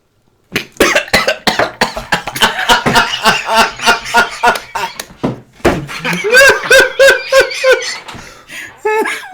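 Several people cough and choke after downing a drink shot, sputtering bursts that give way to laughter and chuckling, loud and close, with voices mixed in.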